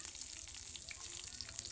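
Bay leaves, cinnamon, cardamom, cloves and dried chilli sizzle in hot oil for chicken biryani, a close, steady crackle and hiss of frying with no talking.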